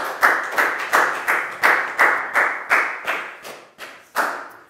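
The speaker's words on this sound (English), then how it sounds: "Big round of applause for Pat" A small group gives a short burst of hand clapping for a student in a classroom, with about a dozen sharp, evenly spaced claps close by and no talking.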